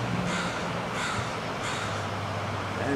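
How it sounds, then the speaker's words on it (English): A crow caws three times in loud, evenly spaced calls over a steady hum of weekday-morning traffic, with no one speaking. "And we have a squawking crow."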